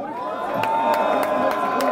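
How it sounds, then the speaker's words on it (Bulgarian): A live rap battle audience shouts and cheers loudly and continuously to vote for a freestyle rapper, a dense sustained crowd roar with sharp whoops and whistles rising through it. "Всеки, който мисли, че Зарко спечели, да извика сега."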